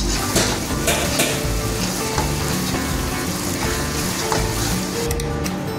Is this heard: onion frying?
yes